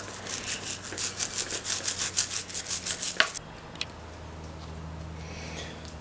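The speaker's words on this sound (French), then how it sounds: "je passe la petite brosse sur toutes les dents" A small brush scrubs the teeth of a bicycle cassette in quick, even back-and-forth strokes, about a dozen close rasping passes over three seconds, then stops, leaving quiet room tone with a faint knock.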